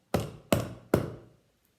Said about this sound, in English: there was a knock on the door